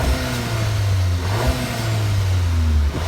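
A stock Honda EP3 Civic Type R engine revved: a loud, close mid-pitched engine note climbing and settling through repeated rev swells with a brief drop near the end, no talking.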